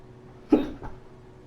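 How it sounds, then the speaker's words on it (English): A single sharp hiccup bursts out, followed by a softer second catch a moment later, close and fairly loud during an eyebrow makeup session. "Damn hiccups, go away."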